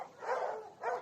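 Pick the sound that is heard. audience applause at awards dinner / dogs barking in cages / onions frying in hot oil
dogs barking in cages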